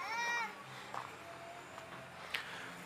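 A cat meowing at an old railway station turned into a café, one drawn-out meow at the start followed by faint rustling and small background sounds.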